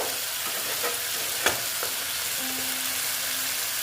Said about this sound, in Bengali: মাছ মশলার সঙ্গে মাছটাকে আমি ভেজে নিলাম